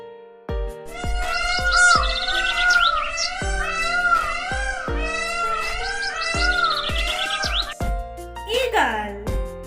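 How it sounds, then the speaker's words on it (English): A peacock gives loud, close, wailing squawks with a cat-like tone, repeated in rising and falling calls over steady rhythmic background music, ending in one sharp sliding cry. "Peacock sound name squawk."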